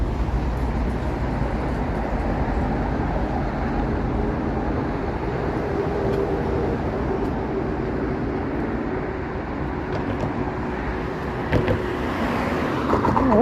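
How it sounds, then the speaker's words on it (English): Deep, steady rumble of a subway train passing underground beneath a street in Toronto's east end, continuous and low throughout, blended with surrounding city traffic noise and no talking. "Hear a subway rumbling underneath us."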